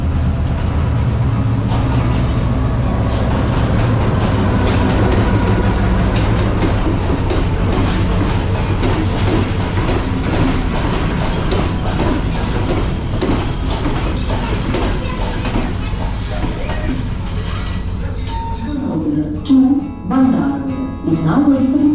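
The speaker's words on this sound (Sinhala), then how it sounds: "ඉතින් අපි ඉද්දි ස්ටේෂන් එකට ආවා කැලිප්සෝ කෝච්චිය" The Calypso train pulls into Ella station in Sri Lanka, a loud, close rumble and clatter of carriages rolling past steadily before easing to a stop, with faint voices near the end.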